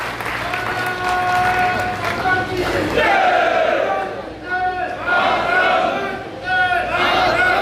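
Gathering at a political welcome event for a governor at a resort, with loud sustained applause and crowd noise, voices and cheering rising over the clapping in waves.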